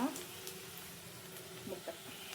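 Beaten egg is poured into a hot pan over softened onion and green chilli for homemade egg rice, giving a steady close hiss and sizzle with a few faint clinks and no talk.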